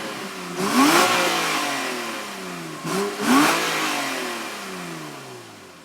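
A Porsche engine revs up hard twice with its exhaust valves closed, each surge rising in pitch then easing off, with a fairly smooth, muted exhaust tone and no voices.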